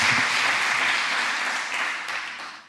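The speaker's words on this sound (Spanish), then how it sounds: "yo le pido un fuerte aplauso a todos para ellos dos" Sustained applause from a lecture audience, a steady wash of many hands clapping that slowly fades toward the end, with no speech over it.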